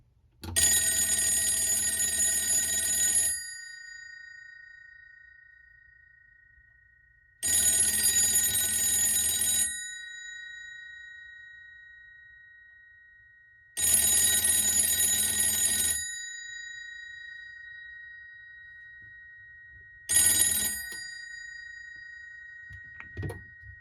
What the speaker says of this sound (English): I will give the phone a ring.